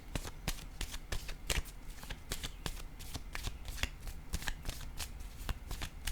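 Tarot cards are being shuffled close up, with a steady run of quick, crisp riffling flicks repeating in a fairly even rhythm over a low room background.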